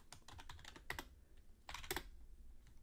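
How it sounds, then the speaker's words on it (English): Typing a first name on a computer keyboard: quick bursts of close key clicks in two clusters, with quiet gaps between them. "let's type in our name, our first name."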